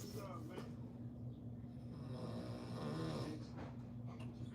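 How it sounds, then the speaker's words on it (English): A man snores close by in a deep, rumbling rhythm, with a steady low hum underneath and a voice speaking softly. "This man is snoring."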